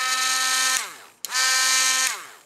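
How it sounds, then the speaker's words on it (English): Cheap Drill Master rotary tool grinding metal, two loud high-pitched whining bursts that spin down between them, close up with no talk. "it's not even a Dremel, this little drill master is enough to mine that away"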